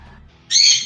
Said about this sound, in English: Sorry about my bird here, guys.